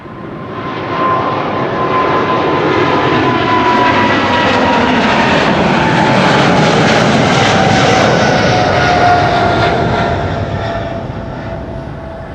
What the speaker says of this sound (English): Quickly turning back, KLM flight 691 to Toronto, 777-300.